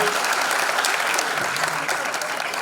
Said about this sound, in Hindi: जोरदार तालियां बरकरार आनंद के लिए